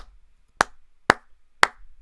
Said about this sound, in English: So I'm going to record some claps right here.